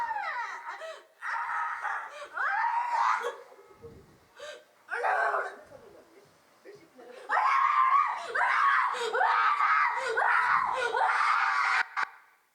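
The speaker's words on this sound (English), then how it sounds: "So nobody knows why she is crying like this." A young girl cries and yells in a recording, with high, wavering wails and sobs breaking into bursts, pausing briefly and then rising again into a long sustained stretch of loud, strained crying.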